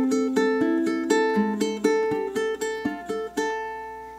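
Ukulele plucking measures three to four of a spooky melody, a steady run of clear picked notes with ringing decay, close and alone with no talking.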